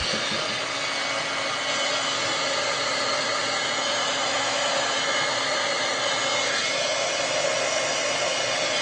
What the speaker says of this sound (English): I'm just gonna give this a dry with my heat gun